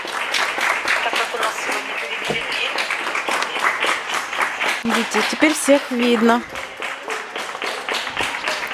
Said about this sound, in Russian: Будем сейчас хлопать.